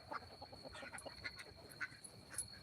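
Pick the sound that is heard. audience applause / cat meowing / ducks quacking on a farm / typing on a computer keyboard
ducks quacking on a farm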